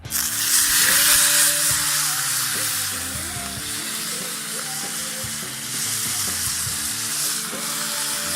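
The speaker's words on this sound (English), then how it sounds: "next is I'm going to just sear these" Pork heart sears hot and fast in a hot pan, a loud, continuous close sizzle that stays steady throughout with no talking.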